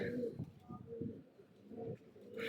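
Pigeons kept for a flying competition coo quietly with low, rolling murmurs that rise and fall over a couple of seconds, faint and close.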